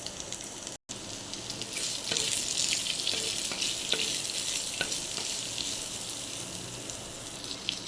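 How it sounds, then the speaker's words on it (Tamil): Onion and garlic sautéing in oil with curry leaves for a tamarind curry: a steady, close hiss of frying that holds throughout, with scattered faint crackles and no voices. "இந்த வெங்காயம் பூண்டு இதெல்லாம் வதங்கும் போதே நீங்கள் கருவேப்பிலை சேர்த்துக்கிட்டிங்கன்னா"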